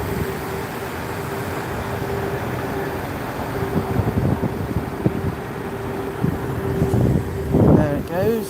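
A Scania or Volvo bus drives past in Gloucester, a low engine rumble that swells toward the end over steady wind and outdoor background noise.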